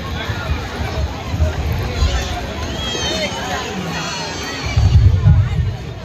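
Dense babble of a large crowd at a Hindu temple, many voices mingling with shouts and bustle, loud and close, swelling louder near the end.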